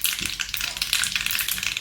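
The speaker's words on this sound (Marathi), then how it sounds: "अगदी स्लो गॅसवरच आपली ही फोडणी व्यवस्थित करून घ्यायची आहे" Mustard seeds and spices crackle and sizzle briskly in hot oil over low gas flame for a tempering, a dense, continuous spitting sound close up with no voices.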